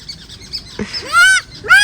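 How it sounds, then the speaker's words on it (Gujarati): A crow-like bird call sounds twice, near and fairly loud: a bright, sweeping tonal cry followed by a shorter repeat, heard after a brief low thump. "કાગડો બોલ્યો યાર કાગડા જેવો અવાજ બોલ્યો યાર કાગડો"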